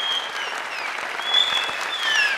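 Audience applause fills a hall after an eleventh-round match between two teams, Shojaan-e Kohandezh and Mardan-e Heri, a steady dense clapping that swells slightly toward the end, with no voices over it.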